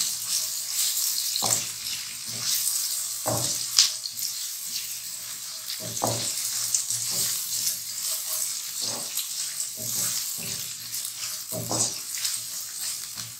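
Onions sizzle with garam masala in a pan for Hyderabadi bhuna keema, a steady hiss broken every couple of seconds by a spoon scraping and stirring through them.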